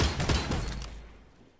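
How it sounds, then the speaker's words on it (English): Gunfire in the Fortnite battle royale game: a quick cluster of muffled shots at the start, fading into a decaying tail over the following second, with no talk. "I don't think it was him that was shooting me though"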